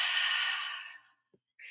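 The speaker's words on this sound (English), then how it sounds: "Let's take a deep breath in." A long, deep breath drawn in by one person, loud and close, fading out over about a second, followed by a brief soft breathy sound.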